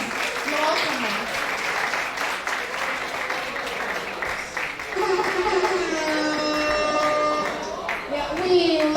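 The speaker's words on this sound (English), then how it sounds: "Please keep clapping, please." An audience at a coconut conference keeps up sustained, dense clapping throughout, with a voice speaking over the applause.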